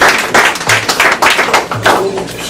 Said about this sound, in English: Take a applause for that